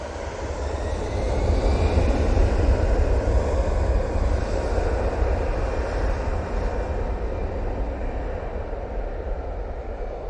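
Propeller airliner at Manchester Airport, bound for Belfast, producing a steady broad rumbling drone with a low throb, moderately distant and continuous throughout, no voices.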